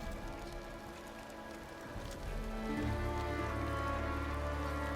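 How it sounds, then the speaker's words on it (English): Steady rain from the Diablo IV video game, falling as a constant wash of drops on surfaces, growing louder and heavier partway through, with no voices. "It's raining."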